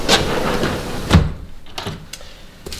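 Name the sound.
door being opened and used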